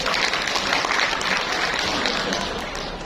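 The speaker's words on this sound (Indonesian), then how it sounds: "tepuk tangan buat kita" Applause from a parenting seminar audience, a dense, even wash of many hands clapping at close range, holding steady for a few seconds and easing slightly toward the end.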